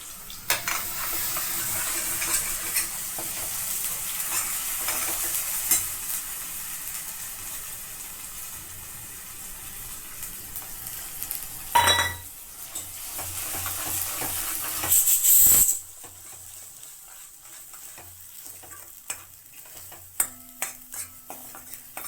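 Ground masala hits a hot pan for mutton curry and sizzles loudly and steadily, with stirring scrapes and a couple of sharp utensil knocks before the frying dies down to quieter clinks.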